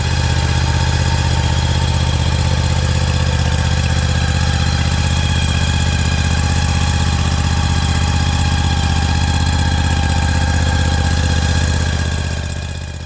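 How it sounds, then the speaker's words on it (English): Kawasaki Mule 7040TRc Cardinal utility vehicle engine running steadily at close range, a loud, even, continuous drone with a low idling rumble that holds for the whole stretch with no one speaking. "I'll even leave the audio up at this point in the video so you can hear what the machine sounds like"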